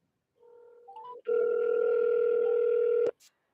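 A phone rings during a test call to a number through a web-based CRM: a short lower tone, then one long steady electronic ring tone that cuts off abruptly, clear and close with no talk.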